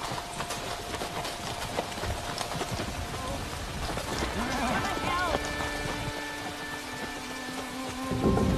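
A storm rumbles with steady rain and thunder, a noisy wash of falling water beneath clattering sounds and tonal music, with voices speaking through it.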